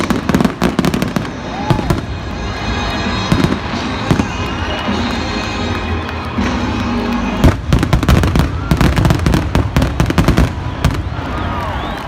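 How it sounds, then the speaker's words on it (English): Fireworks burst in rapid, overlapping cracks and booms at a 3rd of July baseball game, loud and close, with crowd noise underneath between the blasts. "So right now you'll see some fireworks."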